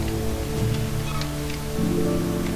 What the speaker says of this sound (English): Whoa, what was that? Oh, rain.